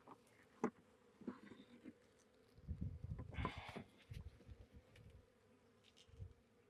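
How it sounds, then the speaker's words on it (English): Honey bees buzz steadily around open hive frames during a colony inspection, a close droning hum with brief louder swells as individual bees pass near, alongside light handling knocks of the wooden frames and no talking. "There's some bees on that one."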